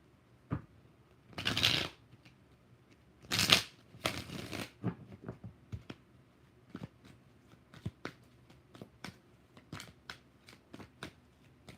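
A tarot deck given a final shuffle during a live reading: a few heavy riffling bursts at the start, then a long run of light, rapid card taps and flicks, close and quiet, with no talk.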